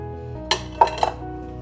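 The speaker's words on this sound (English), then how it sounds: "I'm gonna go ahead and dump in those onions and peppers that we chopped" Chopped onions and peppers tumble into a hot oiled cooking pan, giving a few quick clattering knocks of utensil on metal over a low background hum.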